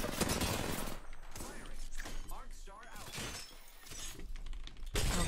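Rapid bursts of gunfire and impacts from the video game Apex Legends, loud and continuous with sharp cracks, under excited talk from a player.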